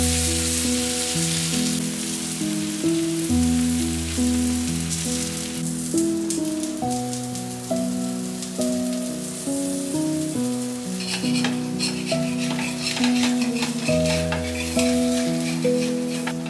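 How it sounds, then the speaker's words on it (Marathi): Thalipeeth roasts in a little oil on a griddle, giving a steady soft sizzle and crackle throughout, partly masked by louder background music playing over it. "तव्याला थोडंसं तेल लावून घ्यायचं, म्हणजे थालीपीठ चिकटणार नाही। आणि याला आता छान खरपूस भाजून घ्यायचं।"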